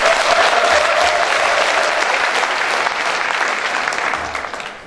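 Meeting audience at a protest movement's planning assembly applauding steadily throughout, a dense, fairly loud wash of many hands clapping that tapers slightly toward the end.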